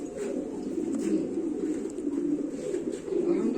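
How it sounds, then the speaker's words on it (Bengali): Several American fancy pigeons, including Indonesian birds, cooing together in a breeding loft, a continuous overlapping low murmur of coos with no pauses and no voices. "অনেকগুলো কবুতর আছে।"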